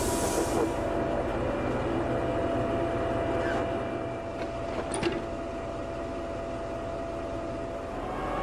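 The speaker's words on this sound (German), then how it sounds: "Im heute für den Personenverkehr stillgelegten Bahnhof Schlutup wird der Zug abgestellt." A freight train is shunted and parked at the disused Schlutup station in Lübeck. A steady, loud rail rumble rolls on throughout, with brief metallic squeals near the middle.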